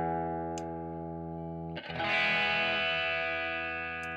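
Electric guitar through a Wampler Dual Fusion overdrive pedal: a sustained overdriven chord rings, then a fresh hard strum blooms with thicker gain and fuller bass, ringing on alone.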